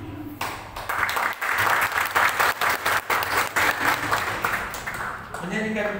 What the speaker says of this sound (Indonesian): kalau tadi tepuk tangan yang meriah,